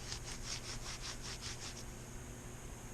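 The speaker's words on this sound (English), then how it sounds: "We'll just hit a little Scotch-Brite on here." Scotch-Brite pad scrubbed against the armature of a 1954 Lionel 2032 Alco FA locomotive motor, a quick series of rhythmic rasping strokes, close and soft, fading into steady noise.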